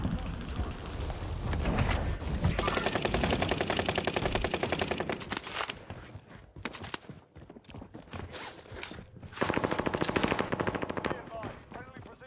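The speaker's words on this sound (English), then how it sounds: "I don't know where I'm getting shot from." Rapid automatic gunfire in a multiplayer shooter video game, long dense bursts close and loud with short gaps between them, a player's voice talking over the shots.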